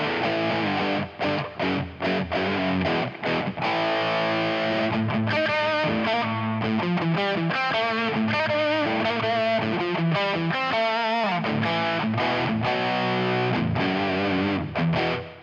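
An electric guitar played through an Ibanez TS-5 overdrive pedal with the drive fully cranked, producing a loud, continuous stream of distorted chords and single notes with a slight hiss underneath and no talking.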